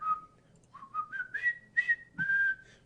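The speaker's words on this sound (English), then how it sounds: "I'm gonna whistle a tune and then you've got to copy it" A person whistles a short tune alone, a sequence of clear rising notes ending on a long held tone, close and fairly loud.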